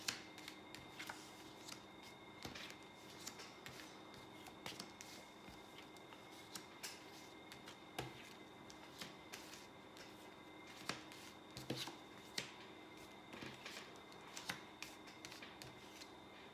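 Tarot cards being shuffled by hand for a fifteen-card spread, giving soft, repeated riffling and flicking sounds with occasional sharper snaps, close and quiet throughout.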